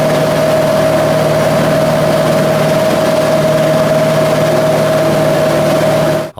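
A Cessna 182 engine drones steadily on an uphill landing approach to a sloping bush strip, a loud constant propeller hum with a fixed tonal whine, cutting off abruptly at the very end.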